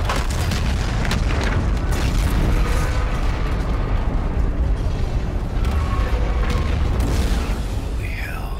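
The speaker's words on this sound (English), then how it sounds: "I'd call that detonation confirmed." Tower detonation in the video game Call of Duty: Infinite Warfare, a continuous heavy rumbling blast with deep booms and crackling debris, loud and sustained, with voices talking over it.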